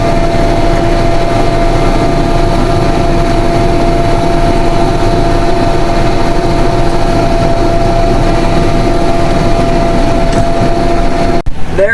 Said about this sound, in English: There goes the 86 Chevy doing work. Look at it pull that head trailer.